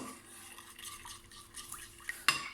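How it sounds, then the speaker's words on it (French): Melted chocolate and oil are stirred together in a bowl, producing quiet, soft scraping and gentle clinks of the utensil against the bowl, capped by a brief sharper knock near the end. "on mélange l'huile et le chocolat hein, pour obtenir une préparation lisse"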